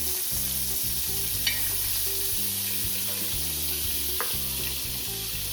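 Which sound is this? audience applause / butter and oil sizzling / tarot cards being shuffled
butter and oil sizzling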